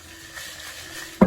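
Fried peanuts being mixed into chili and chili flakes, a soft continuous rustle of tossing that ends in one sharp clack of a utensil on the bowl, close and alone.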